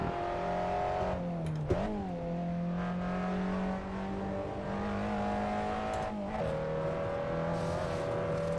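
A race car engine revs steadily at high pitch in an online racing game, with sharp drops in pitch at gear shifts or braking and faint tire squeal, loud and continuous with no talk over it.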